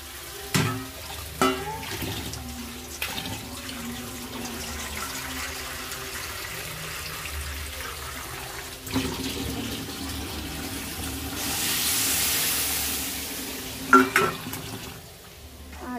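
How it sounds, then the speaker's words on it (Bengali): Water is poured into a pan of fried spices while cooking vegetables, giving a soft sizzling hiss and a rushing pour that swells toward the end among faint kitchen clatter. "এর মধ্যে আমি জল দিয়ে দেবো।"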